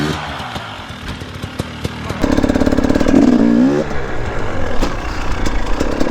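Dirt bike engine revving up during a wheelie attempt by a beginner rider, with a loud surge in the middle, then a rough idle and some clatter from the bike.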